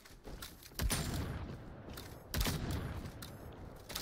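Gunfire in the arena shooter Diabotical Rogue: two sharp, booming shots about a second and a half apart, each trailing into a faint mechanical rattle, fairly quiet overall.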